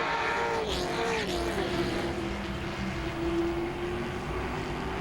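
Grand Stock cars racing at Langley Speedway, loud engines roaring past with a sweeping pitch change as one car passes close, over a continuous drone from the field.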